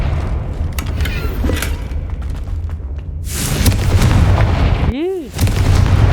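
A Confringo blasting spell explosion in Hogwarts Legacy, a loud booming blast with crackling debris following a burst of game noise, then a sweeping whoosh-like tone near the end.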